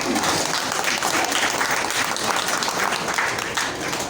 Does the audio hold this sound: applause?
yes